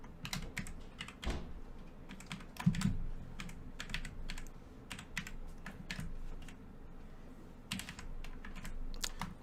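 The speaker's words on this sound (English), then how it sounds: "I got to type in on an unfamiliar keyboard" Typing on an unfamiliar computer keyboard: irregular bursts of sharp key clicks, near and fairly quiet, with uneven pauses between clusters and no talk over them.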